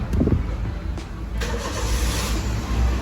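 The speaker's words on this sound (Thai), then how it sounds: "เครื่องยนต์ก็จะสตาร์ทติดนะครับ" A 2013 Honda City engine cranks briefly via a push-button remote start and catches, settling into a low steady idle nearby, with no voices.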